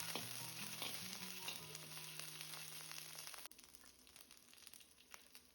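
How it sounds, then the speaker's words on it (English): Ginger, garlic, curry leaves and other chutney ingredients frying in a pan, a faint continuous hiss and crackle with a low hum that cuts out partway, no talk. "Then fry all the ingredients."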